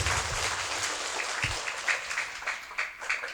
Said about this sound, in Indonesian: Tepuk tangan untuk santri Darus Sofa.